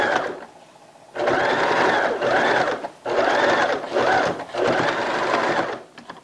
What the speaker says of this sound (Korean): 창구멍을 메울 때는 좀 잡아당겨서 박음질 해주시면 됩니다